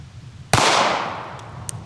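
A single sharp 9mm pistol shot from a Radian Ramjet-equipped carry pistol firing Fiocchi 115 grain ammunition, loud and close, with a long decaying echo and a faint click afterward.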